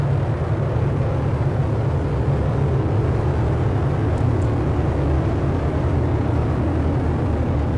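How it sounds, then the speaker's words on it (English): A SpaceX Falcon Heavy rocket with 27 Merlin engines roars at launch, a dense, loud, unbroken low rumble holding steady throughout with no voices. "we hear all 27 Merlin engines look great"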